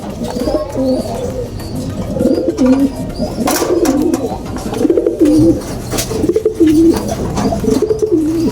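Pigeons coo repeatedly in a loft, a steady chorus of soft rolling calls close by, with someone talking intermittently over them.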